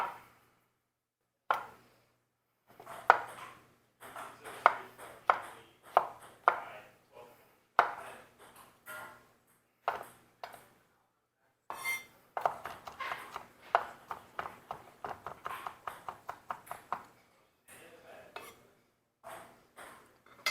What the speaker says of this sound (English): it also says 5 cloves of garlic. So we're going to give these a good chopping.